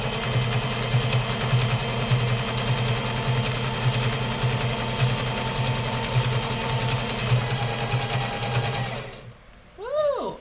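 A sewing machine stitches fabric in a loud, steady mechanical whir with a rapid needle rhythm for about nine seconds, then stops abruptly, followed by brief quieter sounds.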